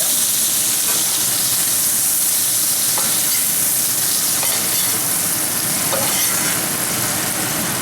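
Cajun potatoes fry loudly in a pan of hot oil, a dense constant sizzle with a skimmer clinking and scraping as they are lifted out, no voices.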